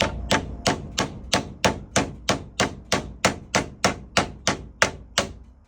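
A broken paramotor propeller is hammered into a snug fit: about fourteen sharp, evenly spaced hammer blows land in a steady rhythm, close and loud, with no talking.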